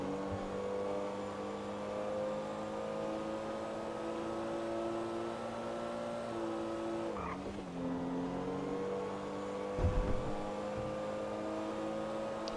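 Pfister Comet Retro Custom in GTA V driving at speed: a steady, loud engine drone holding high revs, a brief dip and shift around the middle, and a short thump near the end.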